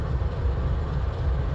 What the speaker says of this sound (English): this is NASA's rocket booster train